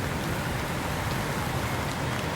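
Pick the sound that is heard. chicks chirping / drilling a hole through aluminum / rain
rain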